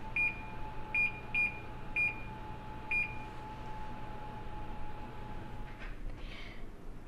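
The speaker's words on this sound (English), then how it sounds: "and set the timer to 30 minutes." Oven timer being set to 30 minutes for a baking cottage pie: five short, high electronic beeps in an uneven run over a steady appliance hum, then a faint rustle.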